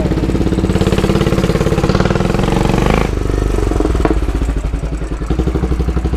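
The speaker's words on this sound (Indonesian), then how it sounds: "Mari kita test ride motor Royal Enfield Classic Battle Green Gibran ini. Nyalain dulu" A Royal Enfield Classic Battle Green motorcycle engine starts and runs, giving a steady, loud single-cylinder thump at close range with a brief blip in revs partway through.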